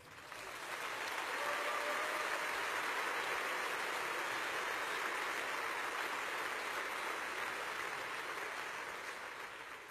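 A concert audience at a jazz piano performance claps in dense, steady applause that swells in, holds evenly for several seconds and eases off slightly at the end, a wash of many hands with no voices.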